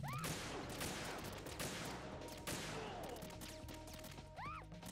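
Gunshots ring out in Metal Gear Solid 2: Sons of Liberty on a bridge, a quiet string of sharp cracks with ricochet-like whines and faint background game sounds.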